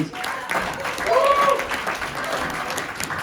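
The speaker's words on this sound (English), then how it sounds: "let's give a big round of applause for the other comics that are up here tonight" Audience applauding the other stand-up comics at a live comedy show in Kenai, a steady wash of clapping with some crowd noise and cheering for about three seconds.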